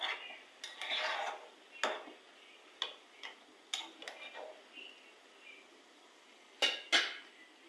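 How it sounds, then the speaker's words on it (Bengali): A spoon scrapes and clinks against a pot while meat curry with potatoes is stirred, giving sparse, irregular metallic taps and brief scraping, close but quiet. "আমি আবারও একটু নেড়ে চেড়ে দিচ্ছি।"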